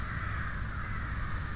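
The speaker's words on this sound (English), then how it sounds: "the birds got something going on in my hood" Crows calling around a residential neighborhood, their cawing faint and distant, blended into a steady background hum with no clear separate calls standing out.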